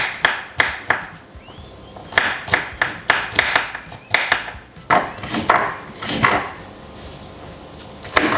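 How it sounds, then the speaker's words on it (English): Vegetables, including chili, ginger and garlic, chopped with a knife on a board for a home cooking session: a run of sharp, woody knocks in uneven bursts, close and fairly loud, with no talking over them. "So I'm gonna start chopping the veggies"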